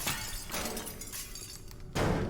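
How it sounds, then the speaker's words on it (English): Noisy action in the video game Teardown with crashing impacts, ending in a loud shattering burst of breaking glass near the end. "smash the glass"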